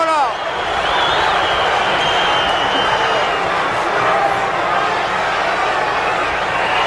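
A capacity arena crowd chants a wrestler's name at a live wrestling event, a dense, loud and continuous roar of many voices filling the hall from start to finish.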